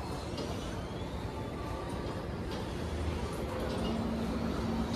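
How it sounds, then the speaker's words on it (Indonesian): A long Pertamina fuel tanker freight train hauled by two locomotives rolls past, its steady rumble and wheel noise continuous and fairly close, with a faint high squeal of wheels on the rails. "Kereta angkutan BBM berangkat kembali."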